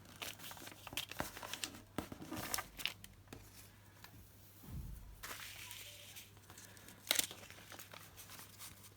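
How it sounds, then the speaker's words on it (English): A paper page folded in half gives soft crinkling and rustling close by, with a few sharper creases and handling noises scattered over several quiet seconds. "Let me fold the page in half,"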